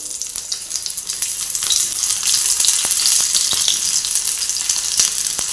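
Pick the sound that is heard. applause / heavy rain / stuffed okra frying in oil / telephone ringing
stuffed okra frying in oil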